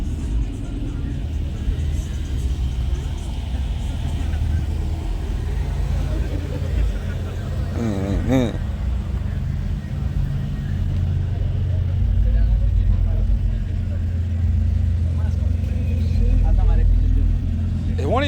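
A truck engine rumbles low and steady at an outdoor truck meet with muddy ground, swelling slightly toward the end, while people talk nearby over it.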